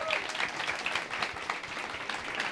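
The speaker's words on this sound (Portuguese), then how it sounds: "Eu quero pedir uma salva de palmas também para o pessoal do projeto de meta reciclagem que está aqui" An audience claps for a recycling project team at the end of a program, brief steady applause at moderate level.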